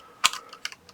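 Keystrokes on a mechanical keyboard with an ISO layout, large enter key and silicone O-ring dampeners, a few quick muffled clacks, one louder press followed by lighter ones, close and alone.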